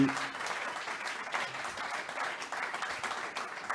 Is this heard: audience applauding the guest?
yes